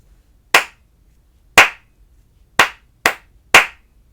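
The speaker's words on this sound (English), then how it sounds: "I'm going to clap a rhythm, and you tell me what fruits I'm clapping" Five sharp hand claps in an uneven rhythm, two spaced about a second apart followed by a quicker group of three, each crisp and close with silence between.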